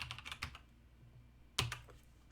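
Computer keyboard typing nearby, a quick burst of soft key clicks followed by a pause and a louder flurry of keystrokes, quiet and alone.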